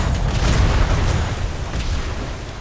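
Ship cannons on a first-rate sailing warship in a naval video game fire as a deep, rumbling, continuous boom, heavy low thuds rolling together into a sustained roar without pauses.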